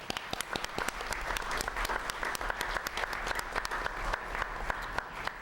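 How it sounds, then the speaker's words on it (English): Audience clapping in a hall to honor schools at a state education board meeting, steady sustained applause of many hands, even and fairly distant, with no talk over it. "give them a round of applause for that"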